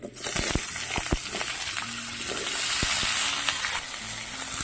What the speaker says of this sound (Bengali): পরিমাণ মতো নুন আর হলুদ দিয়ে সবজিগুলো মিডিয়াম ভেজে নিচ্ছি